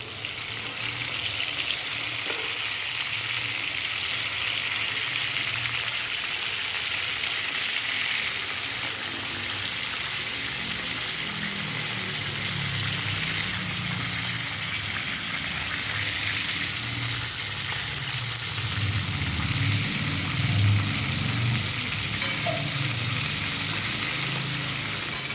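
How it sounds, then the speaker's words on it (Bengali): Fish pieces fry lightly in a pan, a steady broadband sizzle holding evenly for the whole stretch with a slightly fuller bubbling swell toward the end, close and continuous without talk. "মাছগুলো একটু হালকা করে ভেজে নেব।"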